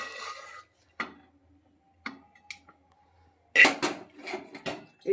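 A utensil mixes moong and arhar dal together in a pot for winter-vegetable khichuri, heard as sparse, close clinks and scrapes separated by quiet gaps, then a denser cluster of clattering near the end.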